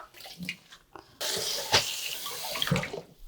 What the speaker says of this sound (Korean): 깨끗하게 쑥을 씻어보도록 할게요